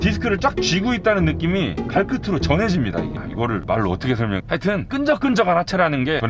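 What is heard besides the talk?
None of the usual background noises is heard.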